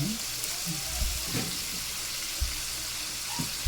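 Chicken pieces fry in an uncovered pan for a sour soup, a soft steady sizzle running throughout with a few faint stirring knocks, close and low in level.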